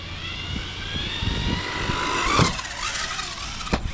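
A Hobao Hyper TT 2.0 RC buggy runs at half throttle outdoors, its motor whining and rising and falling as it passes, with bumps and clatter over the terrain.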